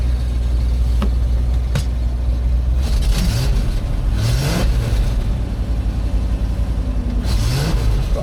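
A Land Rover Defender with a GEMS V8 engine, first started in six months, runs loudly up close with a steady low idle and several revving surges, with an occasional stumble or miss as it accelerates.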